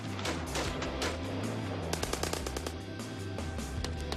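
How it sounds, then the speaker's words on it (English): Rapid machine-gun bursts and repeated gunfire crackle through a fierce street gun battle between police and armed robbers, loud and dense with sharp shots overlapping for the whole stretch. "a fierce gun battle between the cops and robbers rages through the streets"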